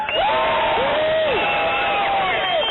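A crowd at a Tea Party-era political rally cheers loudly and steadily, with whoops and shouted voices rising above a dense wall of cheering.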